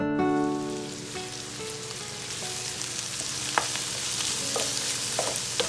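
Onions sizzling in a pan with salt and oil for a masala, a steady broadband fry with occasional stirring clicks and pops, close and continuous with no talking.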